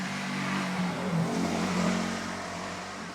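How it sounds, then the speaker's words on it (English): A motorbike on a road in Kyrgyzstan, its engine droning and rising as it speeds past, with the pitch bending as it passes. The sound is moderately loud and steady, with no voices. "here's a motorbike."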